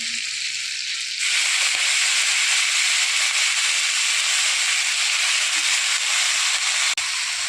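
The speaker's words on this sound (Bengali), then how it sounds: "এবার এর মধ্যে দিয়ে দেবে ধুয়ে পরিষ্কার করে রাখা শাকটা" Washed radish greens dropped into a hot pot in a village kitchen, setting off a loud, steady steaming sizzle that swells after the first second and holds evenly, with a small clink near the end.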